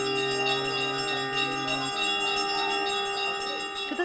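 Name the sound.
temple bells ringing during prayers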